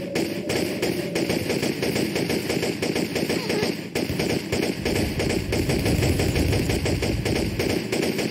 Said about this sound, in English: it takes a hell of a lot of shots to kill these guys with the pistols